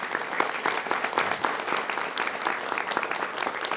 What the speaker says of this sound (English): If we give a round of applause for Senator Bergen.